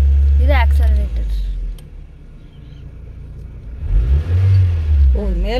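A car engine rumbles and rises in pitch as the accelerator is pressed, swelling loudly near the end. Voices talk before and after it.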